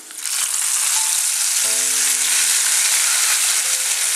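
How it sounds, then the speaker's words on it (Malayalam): Fried mustard seeds with curry leaves are poured as tempering into a jackfruit seed, mango and drumstick curry, giving a loud, steady, close sizzle that flares up and holds throughout, with no talking. "കടുക് വറുത്ത് നമ്മൾ കറിയിലേക്ക് ഒഴിക്കുമ്പോൾ ഉടനെ തന്നെ അത് അടച്ചു വെക്കണം"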